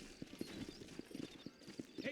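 Horse hooves clip-clopping in the Red Dead Redemption video game, a quick uneven rhythm of soft thuds under faint background ambience.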